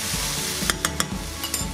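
Vegetables sizzle steadily in a hot pan as they are stirred together, with a few sharp scraping clicks of the utensil against the pan over a constant frying hiss; no talking.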